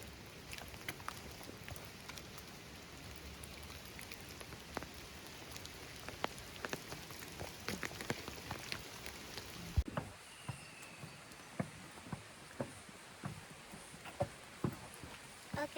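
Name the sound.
rain in a rainforest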